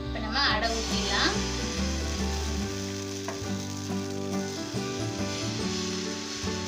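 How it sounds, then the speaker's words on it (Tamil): Adai batter poured onto a hot dosa griddle rubbed with onion, bursting into a loud sizzle at the start that settles into steady frying under a talking voice and tonal background sound. "இப்போ நம்ம அடை ஊற்றிடலாம்"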